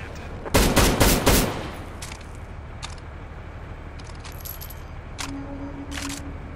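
Gunfire in Counter-Strike: Global Offensive, a loud rapid burst of shots up front followed by a few scattered single shots, some fainter and farther off.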